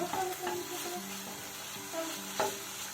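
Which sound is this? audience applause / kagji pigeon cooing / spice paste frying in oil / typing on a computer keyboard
spice paste frying in oil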